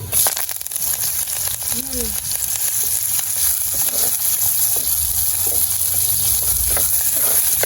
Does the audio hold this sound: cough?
no